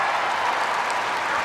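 Crowd at a Kennel Club medium dog agility final bursting into steady, dense applause and cheering, a broad continuous wash of clapping with no gaps, loud and sustained throughout.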